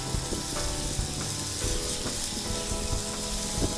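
Tuna steaks sizzle on a flat top griddle over an outdoor firepit, a steady close hiss with small crackling pops throughout and no talking.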